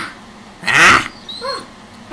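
A young child imitates a lion's roar with one loud, raspy growl lasting about a second, followed by a softer trailing vocal sound.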